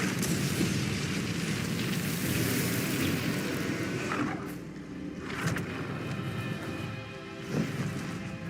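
An Incendio fire spell is cast in Hogwarts Legacy with a loud, rushing, fiery burst, then a softer roar with a few thumping impacts as it fades.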